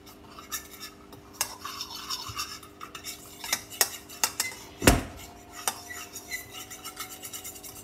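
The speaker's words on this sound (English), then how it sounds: "Mixing with a fork" A fork stirs noodles in a bowl or pot, scraping and clinking against the sides in an uneven series of sharp taps, with one louder knock in the middle. Close and fairly quiet, with no talking.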